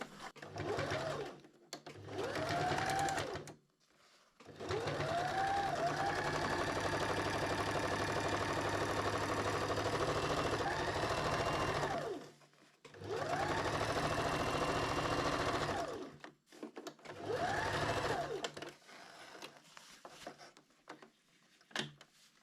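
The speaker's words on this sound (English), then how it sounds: "just sew it around 1 centimeter lengthwise and widewise" A sewing machine stitches hammock fabric, running in several long continuous whirring stretches separated by brief stops, with short forward-and-back locking bursts, close and steady throughout.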